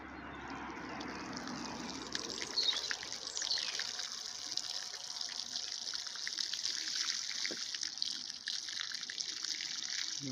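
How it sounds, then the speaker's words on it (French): Water pours steadily from a watering can over freshly sown radish seeds in a garden bed, a soft continuous splashing shower heard close by, with no talking. "Allez, petit arrosage."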